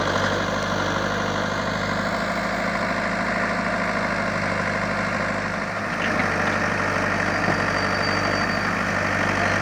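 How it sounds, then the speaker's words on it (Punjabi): A tractor pulling a trolley runs with a steady, loud, low engine rumble, idling and working close by as it shifts back and forth, with a brief dip midway. "ਟਰੈਕਟਰ ਟਰਾਲੀ ਅੱਗੇ ਪਿੱਛੇ ਹਲ ਰਿਹਾ ਹੈ"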